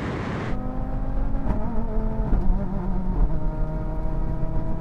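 A BMW M5 tuned to 1,000 hp pulls hard in a rolling drag race from 50 mph against an Audi RS3 and a Porsche 911 Turbo S. A loud, sustained engine roar climbs steadily in pitch as it accelerates, with no talking.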